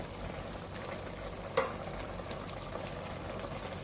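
A sweet potato and coconut dessert simmers in a pot, making a faint, steady bubbling sizzle with one brief clink partway through and no talking.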